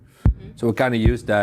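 Two deep, heavy thumps, like a slow heartbeat, from a beat in music, land beneath a person speaking.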